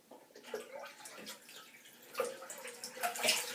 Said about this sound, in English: I'm going to rinse with some cold water